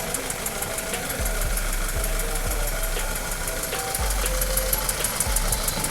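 An Audi A4 engine with a suspected timing chain problem, heard as a steady mechanical rattle and clatter over a droning idle, with recurring low thumps and a continuous metallic ticking close by.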